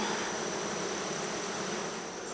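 Bees swarm around an opened Apimaye hive during a honey harvest, a dense, continuous buzzing hum of many insects close by with no voices.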